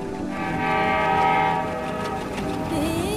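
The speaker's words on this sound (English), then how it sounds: "This is the story of a train, a very special train, the Lifeline Express." Lifeline Express train passing with its horn sounding in a long, steady, loud blast, the harmonic tone holding over a continuous rail rumble for about three seconds.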